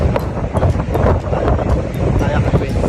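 Strong wind buffeting the microphone on a hilltop, a loud continuous roar and rumble with a voice speaking over it.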